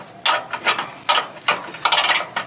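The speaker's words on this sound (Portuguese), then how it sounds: "acochando o parafuso, né?" Tightening a screw on a solar panel mount atop a roof, for a 5.2 kWp kit, gives a series of close, bright ratcheting bursts in an irregular rhythm, with short pauses between them and no talk.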